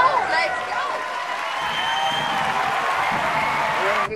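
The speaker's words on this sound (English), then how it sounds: "We've got a big crowd here today. They're excited." A rodeo crowd at barrel racing cheers and claps in a steady, continuous wash of applause with a brief louder burst at the start and an abrupt cutoff near the end.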